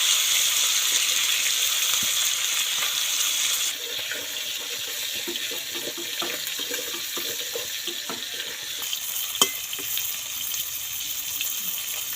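Fish fries in hot oil with a continuous hiss and sizzle. Crackles and pops are scattered throughout, and the sound softens partway through. It is close and steady, with no talk.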